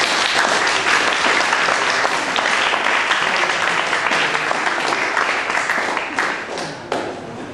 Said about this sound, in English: So I'd like to applaud you for that